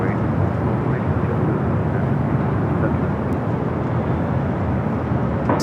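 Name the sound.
airliner at LAX airport, Delta Boeing 757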